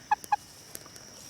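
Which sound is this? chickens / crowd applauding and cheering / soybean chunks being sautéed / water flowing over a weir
chickens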